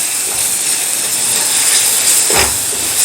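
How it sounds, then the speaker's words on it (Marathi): Green chilies sautéing in a pan for veg modak, a steady hissing sizzle with a brief louder burst near the end, no voices. "हिरवी मिरची अगदी थोडीशी परतून घ्यायची आहे"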